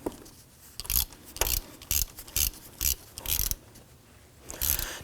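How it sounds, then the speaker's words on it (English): A ratchet wrench with a 1-inch socket tightens a replacement oil pressure sender on a 2005-2009 Subaru Legacy 2.5L H4, giving about seven short bursts of rapid clicking separated by brief pauses, close and clear. "Let's go ahead and snug that down."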